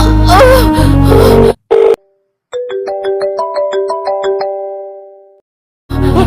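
A phone rings on an outgoing call with a series of repeated electronic tones, several short bursts stepping in pitch over a few seconds, after a brief burst of louder music-like sound and before a short silence.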